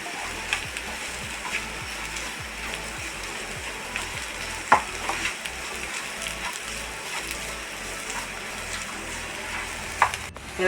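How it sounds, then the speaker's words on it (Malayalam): A small handful of grated coconut fries in a pan for a raw plantain peel thoran, giving a steady, even sizzle close by with a few faint scrapes and taps along the way. "അപ്പോൾ അരമുറിയുടെ പകുതി ഞാൻ നാളികേരം ഇത് അതിലിട്ടുണ്ട് അപ്പോൾ ഒന്ന് ഫ്രൈ ആയോട്ടെ"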